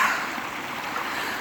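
A mountain creek flowing at the end of a meditative walk, a steady broad rush of water heard close and continuous, with no talk over it.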